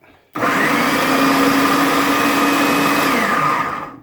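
A food processor grinds chopped vegetables for chow chow relish, switching on abruptly into a loud steady motor whir that holds for about three seconds, then winds down.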